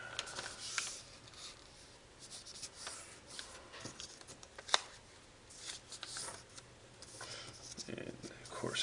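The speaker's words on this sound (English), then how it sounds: "We're going to fold diagonally so the edge meets the center line" Paper being creased and folded into an origami Asian elephant, soft crinkles, rubs and sharp little creasing snaps coming close up at an uneven pace.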